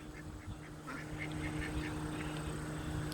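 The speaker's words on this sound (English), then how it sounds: "Got ducks." Two ducks quack near a nesting area, giving a run of soft, repeated quacks at a moderate distance over a steady background hum, with no voices.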